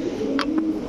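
Coloured Giribaz pigeons coo at a farm, a soft low murmuring coo running steadily through the moment with a couple of brief higher chirps or wing flicks over it.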